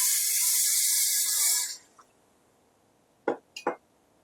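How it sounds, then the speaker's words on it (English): Water splashes hard into a cooking pot holding browned bits and two bay leaves, a loud steady pour for about a second and a half, then it stops and a few quieter sloshes and drips follow. "We're going to add some water to this, just so we can scrape up all of the stuck bits on the bottom."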